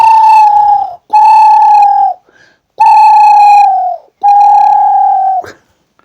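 A person imitating a dove's cooing with the mouth alone, no leaf used: four long, loud, close, clear hooting tones with brief gaps between them, each sliding slightly downward as it ends.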